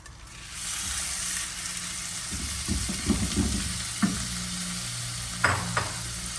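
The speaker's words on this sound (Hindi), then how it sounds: "अब इसमें हम कीमा पहले डालेंगे।" Minced beef dropped into a pan of hot butter and olive oil and stirred, a steady sizzle under scraping and stirring strokes, with a couple of sharper clanks near the end.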